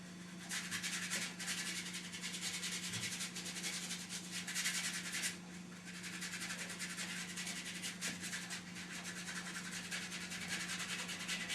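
A paint brush rubbed erratically across canvas during acrylic painting, a steady dry scratchy rubbing that continues almost without pause, close and fairly quiet, with a slight dip in the middle and a constant low hum underneath.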